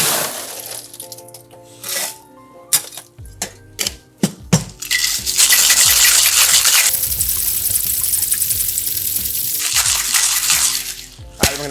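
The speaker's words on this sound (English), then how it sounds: "we're gonna add ice to this and give it a good shake" Cocktail shaker packed with ice, a rum drink being shaken hard: a few loose ice clicks and knocks, then a loud, sustained rattling of ice against metal for several seconds, close and alone without talk.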